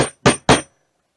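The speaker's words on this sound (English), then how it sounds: "Now I'm just going to drive the T-nuts in." Three sharp hammer blows drive metal T-nuts into the wooden seat of a cheap stool, each strike loud and close with a short ringing decay, evenly spaced and then silence.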